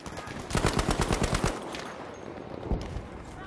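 Rapid automatic gunfire rattles in a dense burst during a Battlefield V gunfight, loud bursts for about a second, then a distant lingering rumble with one more shot.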